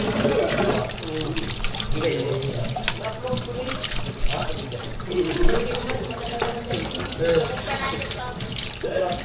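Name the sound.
strong flow of running water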